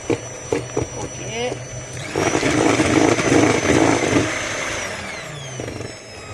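Electric whisk beating flan cake batter made with cornstarch, a steady motor whir in a bowl for a few seconds after brief talk, fairly loud and close.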